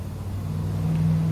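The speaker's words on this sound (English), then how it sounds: "that's the 1 in the 100 car that's obnoxious like that" A loud passing car droning with a low engine rumble that slowly swells in level over a brief moment, close by and alone with no talking.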